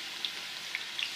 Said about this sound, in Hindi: लहसुन अदरक जो है ना वो हो रहा है फ्राई